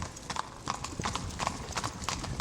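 Horse hooves clip-clop at a steady trotting rhythm, a close, regular series of sharp knocks over a muffled low rumble, with no voices over it.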